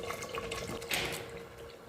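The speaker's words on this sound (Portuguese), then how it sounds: "Vou colocar aqui na panela 1 litro de leite." Liquid pours in a steady, close stream as a liter of milk goes into a cooking pot for sweet hominy canjica, a soft continuous splashing with a brief brighter swell midway.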